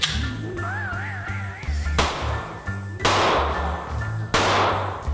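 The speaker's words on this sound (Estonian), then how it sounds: "Esimeseks katseks oli laskmine." Gunfire at a shooting test during a commando selection trial, with three loud, sharp shots spaced about a second apart over a synthesized musical tone and low beat.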